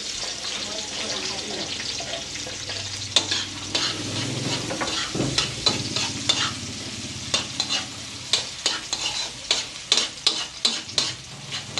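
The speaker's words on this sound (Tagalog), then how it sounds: "Tayo magigisa guys ng gulay na." Vegetables sautéing in a pan in a home kitchen in the Philippines, with a low steady sizzle and repeated sharp scraping stirs that grow more frequent toward the end, close and moderately loud; no talking.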